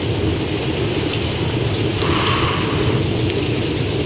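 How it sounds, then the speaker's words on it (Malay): Heavy rain in a Roblox FNAF game pours down as a dense, steady hiss of drops, loud and unbroken for the whole stretch with a faint rumble underneath. "Lebat hujan."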